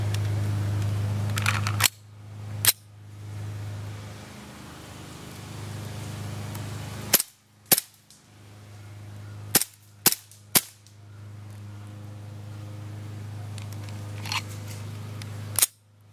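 Swiss Arms P92 GSG-92 airsoft pistol firing sharp single shots, spaced irregularly with a few quick pairs, close by over a steady low background hum.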